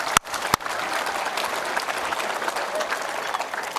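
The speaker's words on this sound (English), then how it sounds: "we can applaud Justin" An audience applauds during a tribute event: a couple of sharp, close claps open into steady, moderately loud crowd clapping that continues evenly to the end.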